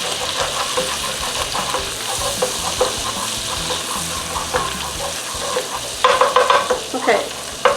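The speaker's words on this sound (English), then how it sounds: "just scrape the bottom there to make sure you get all those little bits up" A utensil scrapes and stirs across the bottom of a frying pan for shepherd's pie, loosening browned bits amid steady sizzling, with louder scraping strokes near the end.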